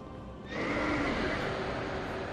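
A horse enemy in Dark Souls 2 lets out a loud, drawn-out neigh that bursts in after a quiet start and rings on over game ambience.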